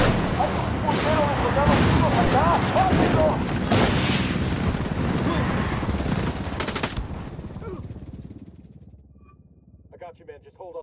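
Dense gunfire rattles in a Ghost Recon Wildlands firefight, with loud automatic bursts and shots under urgent talk, then tapering away into quieter sound near the end.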